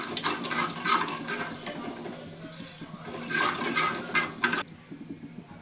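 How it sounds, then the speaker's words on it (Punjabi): Cumin seeds crackle in hot oil in a pan while potato and pea curry is being made. A busy patter of sizzling and popping keeps on close by, then drops away abruptly near the end. "ਜੀਰਾ ਦੇਖੋ ਚਟਕ ਗਿਆ ਹੈ"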